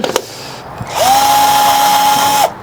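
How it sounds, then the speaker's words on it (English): A power drill whirs loudly and close at a steady pitch for about a second and a half, drilling into a tree trunk, preceded by a few sharp clicks. "So I'm just drilling a hole in here."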